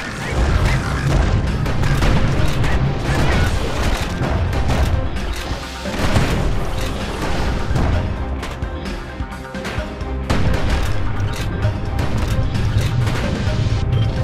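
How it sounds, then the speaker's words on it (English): Security skiffs attack in the video game Bastion with a barrage of loud booms, crashes and gunfire, dense and continuous explosions over a game soundtrack, with a narrator's voice at moments. "Security skiffs keep on coming, starboard side. Don't seem to care what they shoot, as long as they hit something."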